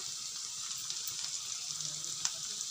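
Green pea paste frying in spiced oil in a pan, a steady close hiss and sizzle with faint stirring scrapes and one brief sharper crackle.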